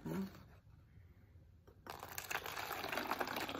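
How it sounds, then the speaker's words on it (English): Hot water pours into a bottle for a cloud-in-a-bottle lab, a faint hiss and trickle at first, then a fuller gushing fill that rises and keeps running close by to the end. "let's put that water in here"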